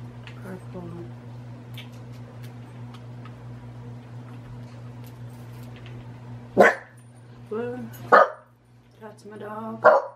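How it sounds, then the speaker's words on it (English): A pet dog barks nearby in a quiet room with a steady electrical hum, a few sharp barks and yips spaced out toward the end. "That's my dog."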